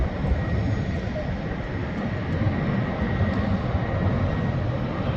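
Airplane at an airport preparing for takeoff, with a steady, loud broadband engine roar that holds constant throughout and no speech.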